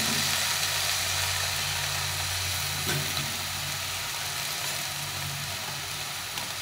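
Cabbage frying in a pan for a vegetarian curry, giving a steady, dense sizzle that continues evenly at close range with a faint low hum beneath and no talking.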